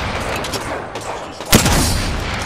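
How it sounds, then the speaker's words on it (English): Apex Legends gunfire: one sharp, close shot bursts out midway through a steady hum of game ambience and is followed by a lingering rumble. "Listen up, I'm getting shot at"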